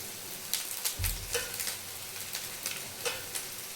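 Street-style chicken fried rice being stirred in a hot pan, a moderate sizzle broken by repeated scraping strokes of a spoon in an uneven rhythm.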